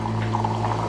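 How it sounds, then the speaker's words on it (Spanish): Water pours steadily for about a second while colorful paletas are being prepared, a continuous close trickling splash over a low steady hum. "vamos a colocar un poquito de agua"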